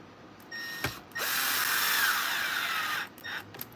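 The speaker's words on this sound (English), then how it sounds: "so let's start putting screws in." A power drill drives a screw into a Bissell Revolution vacuum housing during a cord repair: a short whir, then a sustained near, loud whine for about two seconds, followed by a few brief clicks and bursts.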